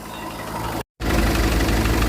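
A tractor engine idling for a test drive at a used-tractor dealership: a steady, knocking diesel rumble, cut by a brief gap of silence, then resuming slightly louder and close by.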